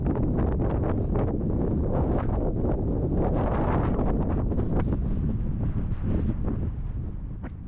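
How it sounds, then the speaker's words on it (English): Strong wind buffets the microphone in a loud, continuous roar outdoors, gusting steadily and easing slightly toward the end. "It's very windy"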